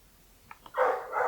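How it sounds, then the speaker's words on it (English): A dog barks outdoors, two short faint yips followed by a louder, sustained bout of barking at moderate distance. "There's like a dog barking too."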